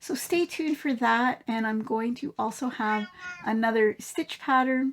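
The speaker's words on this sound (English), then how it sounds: "that's my cat meowing" A pet cat meows at home while a person talks steadily over it. The meows are brief and partly buried under the voice.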